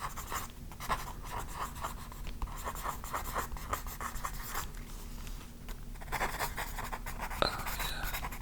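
A pen scratches steadily across paper in a quiet room, close and soft, with continuous small strokes and brief pauses.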